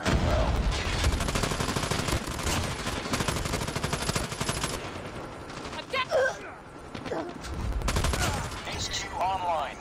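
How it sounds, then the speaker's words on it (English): Hostile sentry gun in Call of Duty: Mobile, Scrapyard Headquarters mode, firing in dense, sustained bursts of automatic gunfire, loud and near, with other game effects mixed in and brief lulls toward the end. "Hostile sentry gun in here as well."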